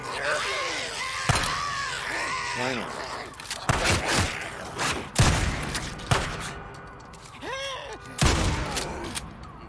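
Gunfire rings out in Days Gone as several sharp shots, loud and spaced irregularly, with a quick burst among them, over game sounds while someone talks throughout.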